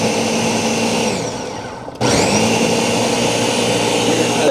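Blender whirring as it purees a smoothie of oranges, vinaigrette, cottage cheese, Brussels sprouts and garlic, loud and steady, dipping briefly before surging back to full power.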